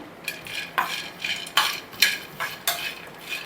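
Peanuts are being stirred as they roast in a dry pan, a spoon scraping and clinking against the metal in about eight quick, rhythmic strokes, close and clear, with no one talking.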